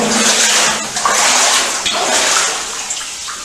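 Distant water pours and splashes down a mine shaft, a continuous hissing rush with faint echoing slaps, heard alone inside the mine workings.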